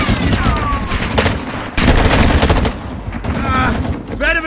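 Rapid bursts of automatic gunfire and sharp shots crackle close and loud in a Call of Duty MW2 DMZ match on the Vondel map, with barely audible voices.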